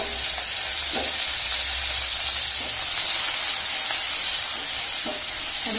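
Brinjal pieces and a slit green chilli hiss and sizzle steadily in hot oil in a frying pan, a loud continuous crackle with a few soft stirring knocks, no voices.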